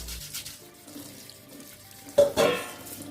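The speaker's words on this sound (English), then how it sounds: "Wash it all over under the running water" Running tap water pours over a plantain skin being washed, a soft steady trickle that swells into louder splashing toward the end, close by with no talking.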